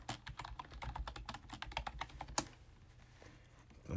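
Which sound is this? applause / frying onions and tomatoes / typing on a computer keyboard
typing on a computer keyboard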